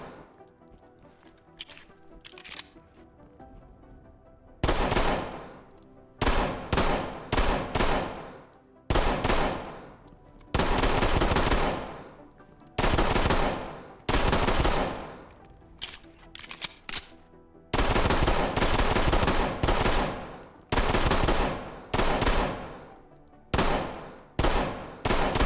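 Taran Tactical 2011 pistol fired in the tactical shooter Ready or Not, with loud, sharp gunshots coming in fast bursts and single shots, and short pauses between strings. There are no voices.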